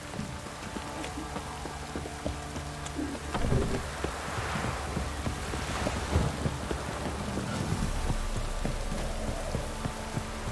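Heavy rain with rolling thunder in The Witcher 3, a continuous wet roar that swells around the middle with low rumbles, and faint hoof-like clopping mixed into the storm.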